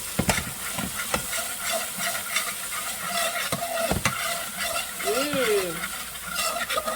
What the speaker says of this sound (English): Now we're gonna saute that a little more.